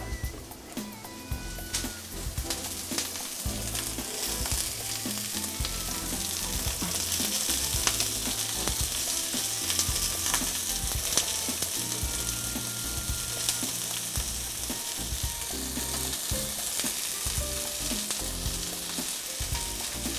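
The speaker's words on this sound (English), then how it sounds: "That's what I'm talking about, that sizzle." Steak and onions sizzle in a hot pan: continuous crackling and spitting fat with scraping stirs and clinks of a utensil, close and steady with no one talking.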